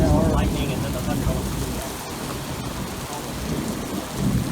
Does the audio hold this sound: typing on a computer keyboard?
no